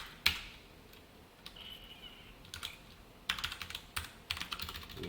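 Code being typed on a computer keyboard, scattered single key clicks at first, then a quick burst of close, crisp keystrokes; no talking.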